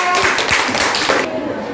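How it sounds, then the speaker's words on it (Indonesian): Classmates applauding in a classroom after a group presentation, a short burst of clapping that stops abruptly, with voices mixed in. "Oke, tepuk tangan"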